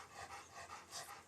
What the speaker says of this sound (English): that's my dog hopping in the background